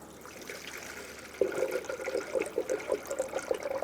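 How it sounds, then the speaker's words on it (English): Coolant is poured into the cooling system of a 2007-2017 Ford Expedition 5.4L V8. A faint hiss gives way, after about a second, to a close, steady gurgling pour that runs to the end. "Now we're going to fill our system up with coolant."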